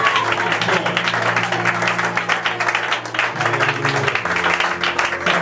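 A church congregation applauds and cheers for the Lord, a dense continuous wash of clapping and voices with steady music beneath, loud and close throughout.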